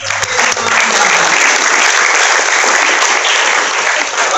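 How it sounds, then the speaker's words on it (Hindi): An audience of students at a lecture by a Vrindavan spiritual speaker bursts into loud, steady applause, dense clapping filling the whole stretch without a break. "आपने ताली पहले बजा दी"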